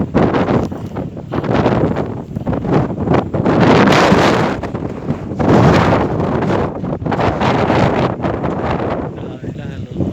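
Strong surface wind blows during a black dust storm under a supercell cloud, roaring and buffeting the microphone in loud, rising and falling gusts that fill the whole stretch.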